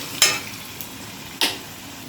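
Hot tempering for moong dal pongal hits the pot with two sharp sizzling bursts, each fading quickly, followed by soft stirring, close and moderately loud.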